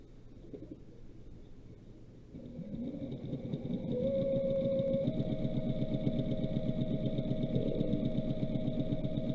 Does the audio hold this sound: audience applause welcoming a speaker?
no